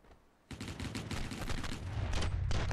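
Dense, sustained gunfire from the Stranglehold video game, a loud rapid fusillade of overlapping shots that bursts in after a quiet half second and keeps going with heavy low rumble.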